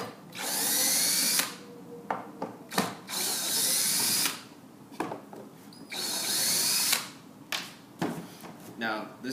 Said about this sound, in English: So what I'm going to do first is take out the 3 screws that are in the bottom.